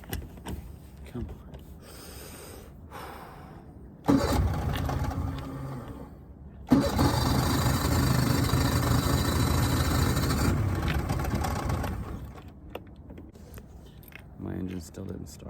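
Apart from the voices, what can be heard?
old fishing boat engine cranking, trying to start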